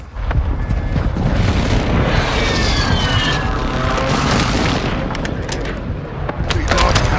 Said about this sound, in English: Requesting close air, target marked.